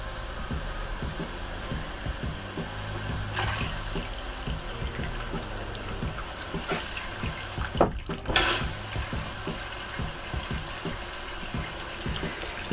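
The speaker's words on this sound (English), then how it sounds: "just push the pump down part way and let the bowl fill" Water filling an RV toilet bowl as a foot pump is pressed part way, during de-winterizing of a Wildwood FSX 170SS travel trailer; a steady close rush of running water with a brief louder splash near the end.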